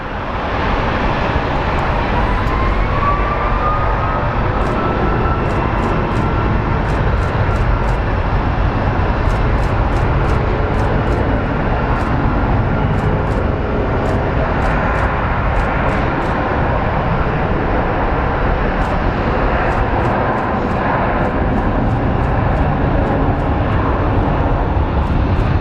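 An American Airlines airliner departs from Phoenix Sky Harbor International Airport, its jet engines producing a loud, sustained roar that holds steady throughout, with faint clicks scattered over the noise.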